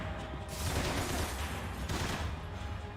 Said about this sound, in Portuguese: O cara fica ali atrás dos bagulho. Metendo um tiro na gente.